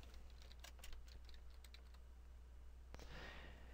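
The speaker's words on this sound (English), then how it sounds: "I'm going to type in what I'm billing for" Faint, scattered keystrokes on a computer keyboard as someone enters a billing line item for an invoice, a few light clicks clustered early, then a brief sharper tap, over a steady low hum.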